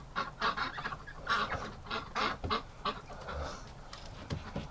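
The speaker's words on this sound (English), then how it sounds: "What a bunch of pushy ducks." Ducks call in a pushy, clustered run of quacks and honks at a coop door on a winter day, fairly close but not loud, with no talk over them.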